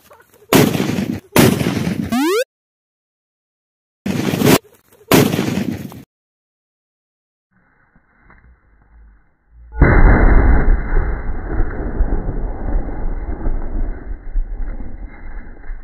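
A firecracker bomb blasts apart a clay pot. A few short, sharp bursts sound early, then quiet, then a sudden loud boom that rolls into a long, rumbling noisy tail.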